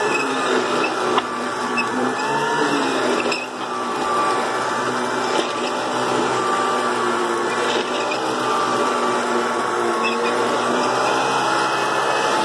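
A 1973 Electrolux 1205 canister vacuum cleaner with a power nozzle runs with a steady motor whine and hum, broken by a few brief clicks and dips, loud and alone.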